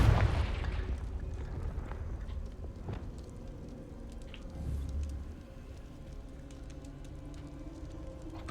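A Confringo blasting spell explodes in the Hogwarts Legacy game: a deep, muffled boom opens the clip and a softer low thud follows midway, both fading into quiet ambience.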